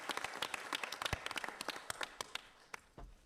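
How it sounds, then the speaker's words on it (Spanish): At a county commissioners' meeting, a small audience claps in a sparse, uneven patter of distinct hand claps that gradually thins out, heard quietly in a large room. "Aplausos."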